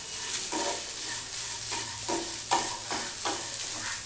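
Pepper, cumin and coconut sauté in a pan for mutton curry, a steady sizzle with five or six scraping strokes of a spoon spaced through the clip, close and unaccompanied by speech.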